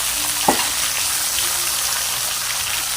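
Red onion, tomato and ginger sautéing in a pan give a continuous close sizzle, with a brief clatter near the start and no voices.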